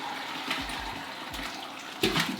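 Homemade broth pours steadily from a pot through a cheesecloth-lined colander into another pot, making a continuous splashing, watery rush with a few louder surges.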